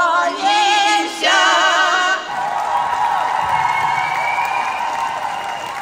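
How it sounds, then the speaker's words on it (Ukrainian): A concert hall audience gives a standing ovation after a village women's folk choir sings carols, with loud, dense applause that carries on steadily for several seconds. "їм зал аплодував стоячи"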